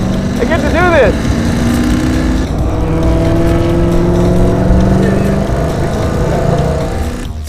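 Race car engine running on a warm-up lap of a road course, a loud steady drone with shifting pitch as it revs through turns, close and continuous throughout.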